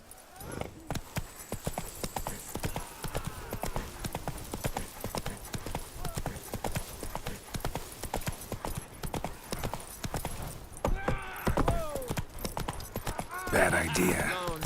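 Rhythmic clip-clop of a galloping horse's hooves runs steadily throughout in the Witcher 3 Blood and Wine expansion, with occasional voices speaking over it and a louder burst near the end.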